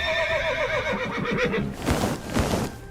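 A horse whinnies loudly and close, a long wavering neigh followed by snorting, breathy sounds.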